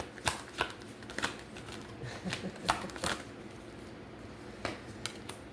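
A deck of tarot cards is shuffled by hand in a quiet room. Soft riffles and sharp slaps come in uneven bursts, fairly close by.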